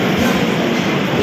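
An economy-class passenger train pulls into a station on the Bhopal to Vadodara route, producing a loud, steady, close rolling rumble with no pauses.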